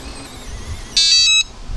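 An RVLock keyless RV door lock sounds one long electronic beep of about half a second after a moment of quiet background, fairly loud and close, with no talking.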